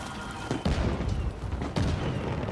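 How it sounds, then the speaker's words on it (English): Fireworks burst in the video game Death Stranding 2, two heavy booms about a second apart over a dense, rumbling, crackling background, fairly loud and somewhat distant. "Fireworks."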